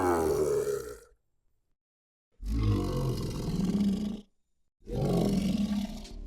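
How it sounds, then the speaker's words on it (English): Pitched-down recording from a Sanken ultrasonic microphone, three deep, growling roar-like bursts separated by silent gaps, each loud and rough with a low, monstrous rasp. "Now let's pitch down the recording from the Sanken mic and hear how that sounds."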